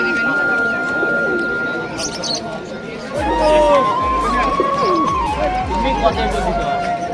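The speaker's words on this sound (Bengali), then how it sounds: "এই হাটে আপনারা পেয়ে যাবেন সব ধরনের কবুতর" Pigeons of many kinds at an open-air bird market, faint cooing and fluttering under a busy crowd with people talking nearby, some low thumping bumps partway through.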